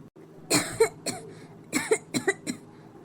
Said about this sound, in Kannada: ಯಾಕ್ರಿ ಕೆಮ್ಮಲಿಕತ್ತಿರಲ್ಲ?